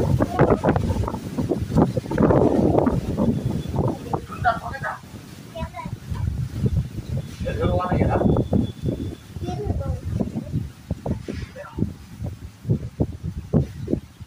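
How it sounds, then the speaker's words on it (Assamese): A strong thunderstorm wind gusts around tin-roofed houses, giving a rough rushing roar and buffeting under a person speaking close by indoors, loudest early and again in the middle. "আমাৰ ওচৰত টিঙৰ ঘৰবোৰ ঘৰম ঘৰম কৰি আছে বতাহে উৰুৱাই নিব ধৰিছে"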